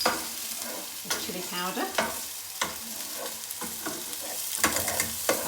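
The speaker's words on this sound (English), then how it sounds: "while Jacqueline is cooking the onion" Onion cooking in a frying pan gives off a continuous sizzle, broken by sharp scraping stir strokes at intervals, while a person talks over it.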